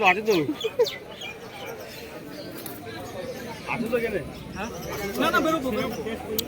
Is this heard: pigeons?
yes